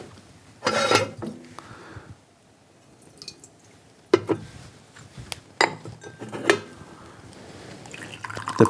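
Water poured over Pu-erh tea blended with Chen Pi mandarin peel for a quick rinse: splashing pours and drips with clinks of teaware, in a few separate bursts with no talking.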